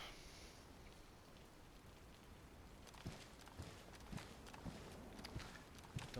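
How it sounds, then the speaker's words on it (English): Rain falls steadily in the DayZ video game on Livonia at night, a soft even patter with scattered sharper drips and light thuds, faint and close, with no talking. "I just don't want to go out in this rain"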